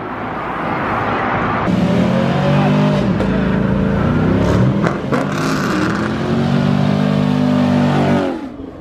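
A Nissan 350Z with an extremely loud aftermarket exhaust revs hard up close, several rising and falling bursts of roaring engine note following one another for about seven seconds before cutting back.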